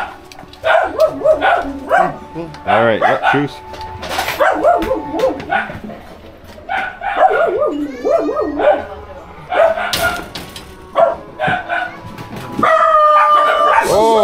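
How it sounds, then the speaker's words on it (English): Several excited dogs bark loudly and repeatedly at a family home in a province near Metro Manila, Antipolo, Philippines, as people talk over them, with a rooster crowing near the end. "The dogs are just so loud, I couldn't talk in them."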